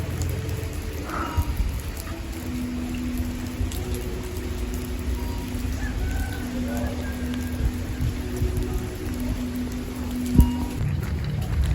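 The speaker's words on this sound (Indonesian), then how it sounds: "Karena suasana masih hujan" Steady rain falls outdoors, a continuous soft patter and hiss with a few louder drips, while faint tones and distant background sounds drift in under it.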